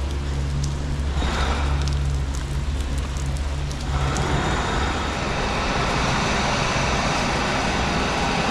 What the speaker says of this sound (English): So I've got to walk in the rain again.